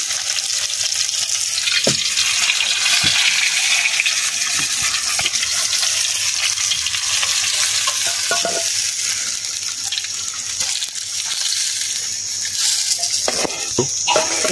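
Fish frying in hot oil, a loud continuous close sizzle with occasional sharp pops and rattles throughout, no voices.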